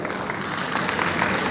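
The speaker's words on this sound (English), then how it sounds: "big round of applause for Kunal." Audience applause at an award announcement, a steady wash of clapping that holds evenly through the short moment with no voices over it.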